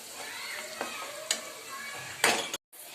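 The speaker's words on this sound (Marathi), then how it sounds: "चला कांदा परतू झालेला आहे आता मीठ टाकायचं आहे आता धनिया पावडर लाल तिखट हळद आता हे परतून घेऊया" Fried onion sautés with salt, coriander powder, red chilli and turmeric for an aloo bhaji, giving a soft sizzle punctuated by a few spatula clicks and a brief louder scrape before the sound cuts out.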